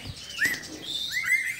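A cucak timor, the friarbird of the Lesser Sunda islands, gives loud ringing calls nearby, two clear rising whistled notes with a brief pause between them, heard alone against faint background noise.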